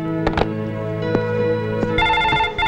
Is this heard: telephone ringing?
yes